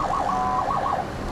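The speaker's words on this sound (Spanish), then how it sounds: "Un sistema de sirena para llamar la atención y que la policía llegue antes." An armored car's warning siren wails in a fast, repeating up-and-down yelp, loud and steady, with no voices over it.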